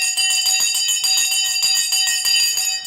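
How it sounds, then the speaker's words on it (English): A stock market closing bell ringing continuously for a few seconds, a loud, bright, sustained electric ringing with a rapid rattling pulse and no talk over it. "The bell has gone."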